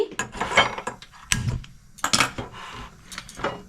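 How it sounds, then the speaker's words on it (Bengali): A gas stove burner is lit in a home kitchen while cooking, giving sharp metallic clicks and clinks in several close bursts, with quiet gaps between them. "চলুন বন্ধুরা, আমি গ্যাসটা জ্বালিয়ে নিচ্ছি।"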